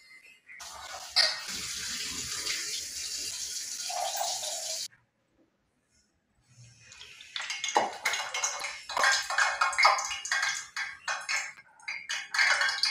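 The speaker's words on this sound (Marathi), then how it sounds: "ह्या चण्यामध्ये थोडंसं विनेगर घालून 1 तास भिजत घातलेलं ते आता मी स्वच्छ धुवून घेते" Soaked chickpeas, steeped for an hour in water with a little vinegar, being rinsed clean under a running tap, with loud splashing water and a pause before more sloshing and rattling in the bowl, no speech.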